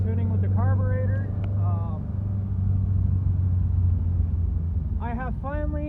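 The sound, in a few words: BRE Datsun 510 engine running after carburetor tuning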